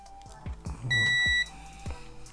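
A multimeter in diode test mode gives a sharp, sustained electronic beep in the middle, set among quiet clicks and taps of probes on a JVC television power supply board.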